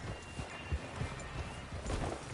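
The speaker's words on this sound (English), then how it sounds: "Get a hold of that horse" Horse hooves clip-clop on the ground in Red Dead Redemption 2, a steady run of close, moderately loud thuds over a constant background wash.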